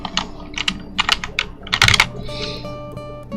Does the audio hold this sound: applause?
no